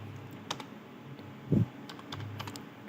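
A website address typed on a computer keyboard during internet setup, with a handful of scattered, moderately close keystrokes and one heavier key press in the middle.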